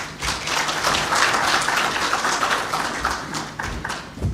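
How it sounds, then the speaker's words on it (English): Crowd applause at an alcohol-reform event in Kenya, dense overlapping clapping that stays steady and loud throughout, with a few heavier thuds near the end. "again we applaud her in a better way"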